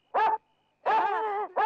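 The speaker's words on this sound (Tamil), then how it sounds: "என்ன பாட்டு பாடி நாய வர வச்சிட்ட?" Dog barking in a Tamil comedy scene: a short harmonic bark, a pause, then a longer drawn-out howling bark and the start of another, loud and close with no talk over it.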